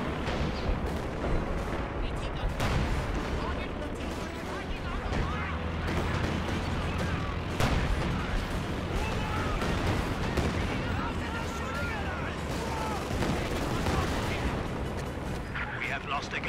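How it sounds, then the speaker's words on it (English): An artillery barrage in the World War II strategy game Company of Heroes 2, in a trench warfare battle: a continuous loud rumble of shelling and gunfire with repeated impacts, mixed with faint voices. "artillery barrage launched."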